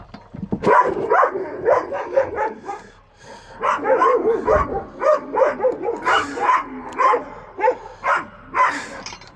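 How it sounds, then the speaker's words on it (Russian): Dogs bark nearby in a rapid series of loud, repeated barks and yips with short pauses, filling the stretch with insistent barking. "Собаки."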